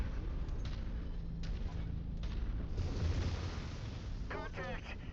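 Mech weapons fire during a MechWarrior 5 battle on the Last Frontier DLC, heard as a steady roar of booming artillery-like blasts with a short rapid rattling burst near the end, dense and continuous under faint radio chatter.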